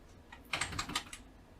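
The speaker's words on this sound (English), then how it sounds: "keyboard seems to actually not be completely terrible." Keys clatter on an IBM PCjr computer keyboard in a short, quiet burst of several quick presses, with low room noise around them and no one speaking.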